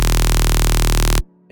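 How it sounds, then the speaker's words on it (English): A synth screech built from a saw wave with added noise and pitch automation, thickened by a fat processing effect, blares loud and dense, then cuts off abruptly after about a second into near silence. "So this is basically just a saw wave with some noise and a pitch automation."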